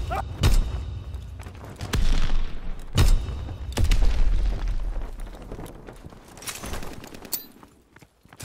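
In Call of Duty WWII, aircraft strafing fire lands as a string of heavy booming bursts and sharp cracks spread unevenly over several seconds, loud and close, with no talk over it.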